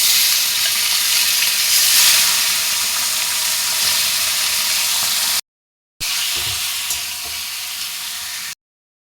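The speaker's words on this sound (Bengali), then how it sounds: "এই ঘিতেই আমি 500-র মতো মাটন নিয়েছিলাম, সেটা ভেজে নেব, হালকা করে ভেজে নেব।" Mutton pieces frying gently in ghee in a pan, a steady close sizzle and hiss with faint stirring, broken by two short silences.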